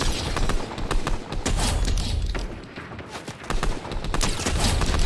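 Dense, rapid gunfire from the video game Fortnite, loud, close and nearly continuous, with bursts of shots and heavy thumps packed together over several seconds and a brief lull in the middle.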